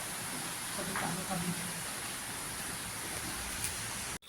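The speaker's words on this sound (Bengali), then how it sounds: "বৃষ্টি ঝমঝমাঝম হয়েই যাচ্ছে" Heavy rain falls outside in a steady, unbroken hiss that lasts the whole clip, with a faint murmur of voices near the start.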